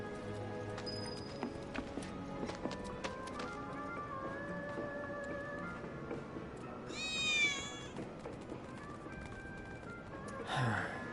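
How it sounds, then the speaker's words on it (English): A cat meows in Final Fantasy 7, one rising, wavering call about midway, with a brief second cry near the end, both over a steady bed of game music and ambience. "I think one of Betty's cats might be nearby"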